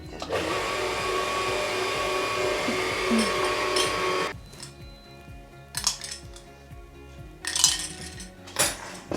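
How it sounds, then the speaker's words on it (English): Sponge cake batter is stirred in a bowl, with a busy scraping whir at first, then quieter spells broken by clinks and knocks of the utensil against the bowl. "Give it a final stir."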